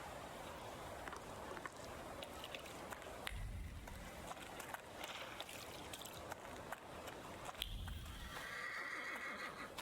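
A horse in the video game The Thaumaturge neighs and its hooves clip-clop steadily over outdoor ambience, with louder low thumps of movement around the middle and near the end.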